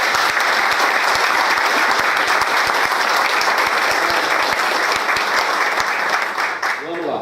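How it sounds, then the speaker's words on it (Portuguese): An audience at a farm awards ceremony in Brazil breaks into loud, continuous applause, dense clapping that stays steady and close before easing off at the very end. "uma salva de palmas de todos que participaram desse grupo"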